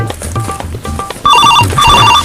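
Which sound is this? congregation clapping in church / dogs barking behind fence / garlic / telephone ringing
telephone ringing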